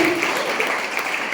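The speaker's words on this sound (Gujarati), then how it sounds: "તો ઇન્દુબા માટે આપણે જોરદાર તાળીઓથી એમને વધાવી લઈશું" A women's gathering of a Brahma Kumaris centre in Amreli keeps up a dense, continuous round of applause throughout, loud and close.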